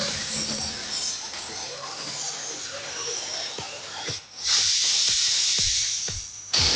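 A pressure cooker with vegetables cooking inside releases steam as a continuous hiss that grows louder and sharper partway through, with a few clicks and knocks scattered through it and no talk over the sound.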